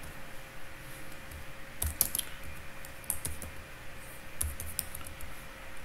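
Keys clatter in quick, uneven runs on a computer keyboard while C# code is typed. The sound is close and moderately quiet, with a steady low hum in the background.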